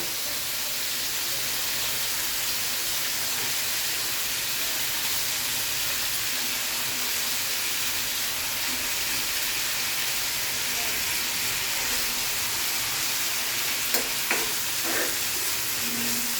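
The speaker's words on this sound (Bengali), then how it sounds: "মশলাটা ভালো করে কষানো হয়ে গেছে এখন মাছ দিয়ে দিব" Katla fish sizzles steadily in a thick cooked-down spice masala in a pan, with a continuous loud frying hiss and a few faint clinks near the end.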